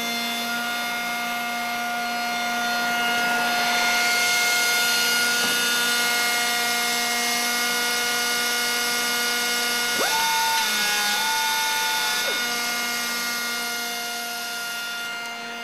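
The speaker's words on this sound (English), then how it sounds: "Top and bottom tracer shoes and a horizontal shoe control the radius cutter heads as they travel around the panel in the same pass as the edge application cycle" Vector Revolution 180 automatic contour edgebander working around a panel, a steady loud machine drone with tonal whine and a rising higher-pitched cutter tone midway, no talking.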